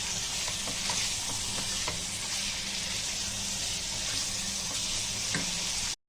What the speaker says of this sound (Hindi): अभी चिकन पकने तक 5 मिनट इसको पकाएंगे।